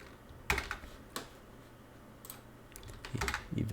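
Typing on a computer keyboard during a livestream, with close, uneven bursts of key clicks separated by short pauses and a quicker run of keystrokes near the end.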